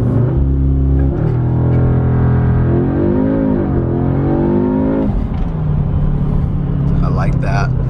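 An Audi S3 (8Y) revs up under launch control, its engine note climbing and holding before settling, with a person talking over it throughout.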